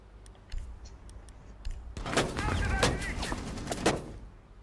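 Gunfire in the Rainbow Six Siege shooter: a few sharp shots followed by a dense cluster of bursts and impacts at moderate loudness, mixed with other game noise.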